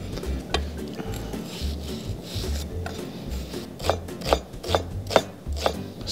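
Onion being chopped with a knife on a board: steady, fairly fast repeated taps and scraping strokes close by, growing sharper and louder toward the end, with no talking.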